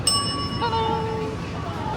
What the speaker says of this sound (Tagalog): Please ring the bell for service.